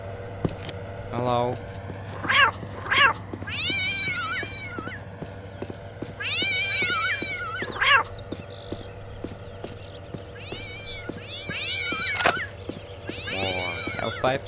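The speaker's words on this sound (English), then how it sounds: "Ooh, more cats." Cats meow repeatedly in the video game Postal 2, short scattered cries coming one after another at moderate volume over a steady low game hum, with a voice talking at points.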